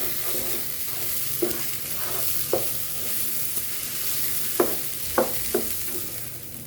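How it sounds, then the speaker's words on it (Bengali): Rice fries and is stirred in a large pot for beef biryani, a continuous close sizzle broken by several sharp scraping strokes of the spoon at irregular intervals, with no talking. "তো এই যে চালটা কিন্তু প্রায় ভাজা হয়ে এসেছে, দেখতে পাচ্ছেন।"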